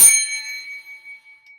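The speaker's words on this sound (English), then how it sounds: "That's the bell I ring for my clients when they enroll their first client." A hand bell rung once in celebration of a client enrolling, giving a bright metallic strike that rings on with a long, slowly fading shimmer, loud and close with no talk.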